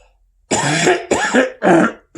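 A man coughs and clears his throat indoors: three close, loud, rough bursts in quick succession, the middle one choppy, with short gaps of silence between them.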